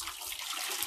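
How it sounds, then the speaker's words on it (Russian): Water poured from a wooden well bucket hoisted on a sweep pole at an outdoor well, a steady close splashing rush lasting under a second with no talk. "Наливаю."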